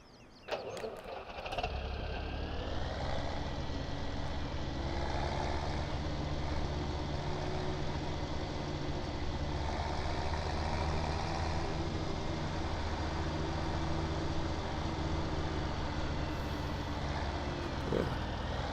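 A farm tractor starts up and pulls forward, its diesel engine settling into a steady, close, droning idle-to-working rumble that holds evenly throughout, with no voices over it.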